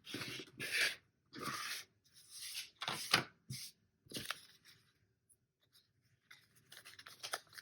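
Fabric overhang is trimmed from a foundation paper pieced quilt block in a series of short, close, quiet scraping cutting strokes with small pauses between them and no talking.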